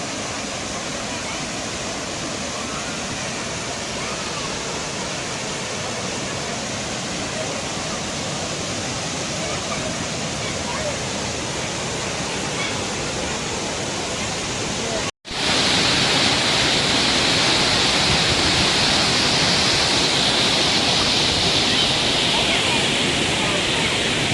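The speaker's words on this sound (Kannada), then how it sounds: "ನಾವೀಗ ಅಬ್ಬಿ ಫಾಲ್ಸ್ ರೀಚ್ ಆಗಿದ್ದೀವಿ ಅಬ್ಬಿ ಫಾಲ್ಸ್ ನೋಡ್ಬೋದು" Abbi Falls waterfall in Kodagu roars as a dense, constant rush of falling water, loud and unbroken, with a brief dropout midway before the roar resumes even louder.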